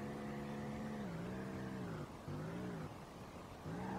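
Simulated drift car engine in the Street Legal Racing Redline game, held in third gear, producing a steady low revving drone with pitch rising and dipping in repeated swells and no talking.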